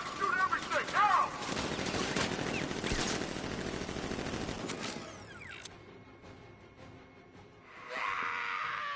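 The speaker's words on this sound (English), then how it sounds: "Activate sentry guns on my mark." Deployed sentry guns open up in the video game Batman: Arkham Knight, a dense sustained burst of automatic fire with mechanical rattling that cuts off midway, followed by quieter whirring and a brief noisy flare near the end.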